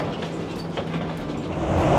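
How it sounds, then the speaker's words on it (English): An airport terminal train heads to the B gates at London Heathrow Terminal 5, giving a steady rumbling rail hum with faint clicks that builds slightly toward the end, with no talking. "We're now taking the train to go to the B gates."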